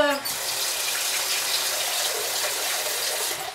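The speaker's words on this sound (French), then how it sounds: "Et là je rajoute de l'eau." Water poured into a cooking pot for chicken mkelli: a steady, close gushing splash that runs continuously for a few seconds before tapering off at the end.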